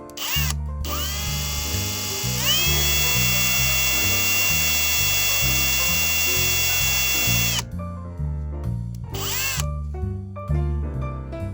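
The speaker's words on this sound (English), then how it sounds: "After drilling the pilot hole" A power drill whines at high speed, boring a pilot hole into an IKEA Billy shelf, loud and close, in several bursts with short pauses and revving starts and stops.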